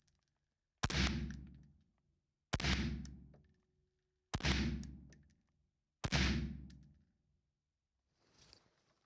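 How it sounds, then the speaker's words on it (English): An IWI Tavor 7 bullpup rifle fires regular .308 rounds at an outdoor range, giving four loud, sharp shots spaced about two seconds apart, each with a ringing tail, then a faint metallic clink at the end. "So let's move to the regular 308 that we were shooting before."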